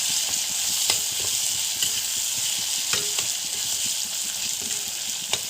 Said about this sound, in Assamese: এইটো লৰাই দিছোঁ।